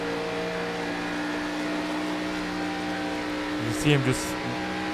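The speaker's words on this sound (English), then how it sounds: "You heard the wheel spin, the RPM spike up" Race car engine in a sim racing game on the Michigan oval, a steady droning whine with a brief revving spike and wheel spin near the end, under a commentator's voice.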